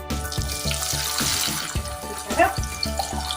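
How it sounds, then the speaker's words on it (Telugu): Chickpeas for a kabuli chana namkeen deep-frying in hot oil, a steady bubbling sizzle with watery crackle running throughout, close and moderately loud, with rhythmic low thumps underneath. "ఆయిల్ వేడెక్కింది. ఇప్పుడు మనం ఇలా ఉన్నాయి కదా, ఈ శనగల్ని మనం ఇలా వేసుకొని ఫ్రై చేసుకోవాలి"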